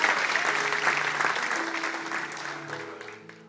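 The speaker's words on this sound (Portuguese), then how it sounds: "Aplauda o nome do Senhor" A church congregation applauds together, a dense, steady wash of clapping that fills the room and slowly fades toward the end, with sustained instrumental tones underneath.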